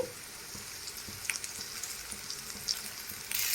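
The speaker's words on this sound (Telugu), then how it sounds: "చూడండి, ఆనియన్స్ అయితే ఫ్రై అవుతున్నాయి." Onions frying in oil in a pan for chicken fry biryani make a close, even sizzle and crackle with scattered small pops and faint stirring taps, and no voices.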